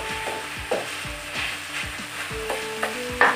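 Eggplant sautéing in cooking oil over low heat gives a soft sizzle, with repeated spatula scrapes and stirring knocks against the pan in an uneven rhythm.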